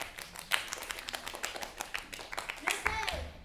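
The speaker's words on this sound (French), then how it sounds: "Vous pouvez vous applaudir." An audience claps in scattered, uneven bursts at a dream-themed show, close and moderately loud, with voices murmuring underneath.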